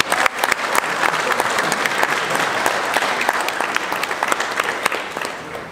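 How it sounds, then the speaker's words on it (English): Sustained applause from wedding guests at a ceremony, a dense, steady patter of many hands clapping for nearly six seconds with no talk over it. "Let's hear some applause."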